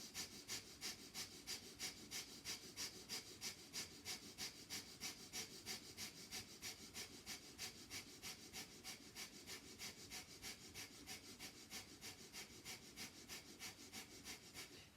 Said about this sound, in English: Breath of fire is hearing inhale and exhale.